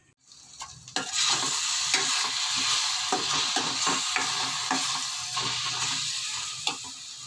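Egg mulakaya pulusu curry with rock salt, simmering on a low flame, giving a steady close bubbling sizzle with soft stirring scrapes and small taps, and no voices.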